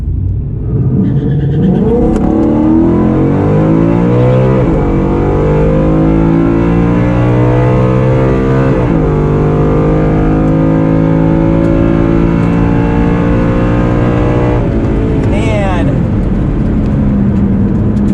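The drag race car Chucky launches hard down the track at a True Street event, engine roaring loud and close as it climbs through several upshifts over about eighteen seconds, with a voice talking over it.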